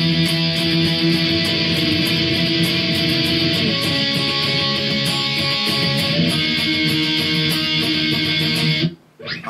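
A distorted electric guitar plays the chorus of a song in sustained chords with a busy, driving rhythm, loud and continuous, before stopping abruptly near the end.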